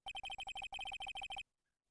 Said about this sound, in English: that song your phone plays when it rings